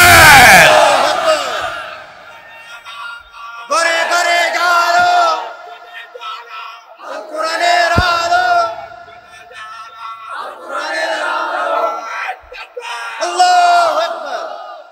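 A large crowd at a Bengali Islamic sermon gathering roars back in repeated chanted responses to the Naraye Takbir call, several loud swelling shouts separated by short pauses.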